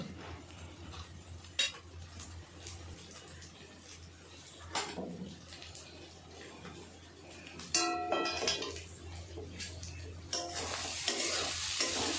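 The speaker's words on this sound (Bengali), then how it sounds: "আদা রসুনটা দেওয়ার পরে ভালো করে কষে নেব" Ginger-garlic paste is stir-fried in a pan. Oil sizzles steadily under scraping spatula strokes and occasional metallic clinks against the pan, and the sizzle grows louder toward the end.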